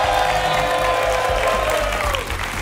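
A studio audience on a Spanish television game show gives a contestant loud, dense applause, a continuous close clatter of clapping with some cheering over the whole stretch.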